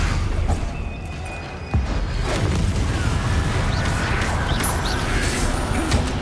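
A Confringo spell blasts in Hogwarts Legacy. Heavy booming impacts and a crash come through over a dense, loud rumble of combat noise, with a sharp hit near the middle of the stretch.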